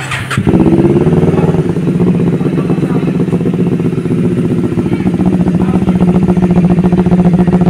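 A Kawasaki Z500 motorcycle idling close up, its engine and exhaust giving a loud, steady, throbbing rumble that starts with a quick blip and then holds even throughout, with no clear talk.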